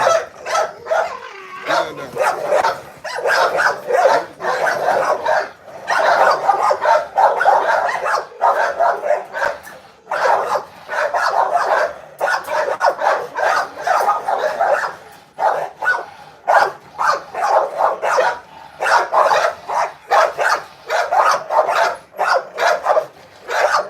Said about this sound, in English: The dog you hear now, he a dangerous dog.